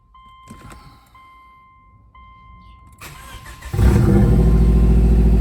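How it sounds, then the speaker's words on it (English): A 2005 Subaru engine freshly fitted with a new TD04 turbocharger cranks briefly then catches and starts, settling into a loud, close, steady idle after a few quiet moments of faint background sounds. "let's start the turbo Subaru up"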